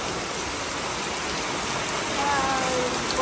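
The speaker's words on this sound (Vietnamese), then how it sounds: "đang ăn mà trời mưa lớn quá" Heavy rain pours down steadily in a dense, even hiss that fills the whole stretch, close and loud with no break.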